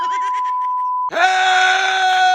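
A long, loud scream in a Roblox Mr. Bean game after a lobster bite, rising abruptly after a short electronic tone, held strained and piercing until the end.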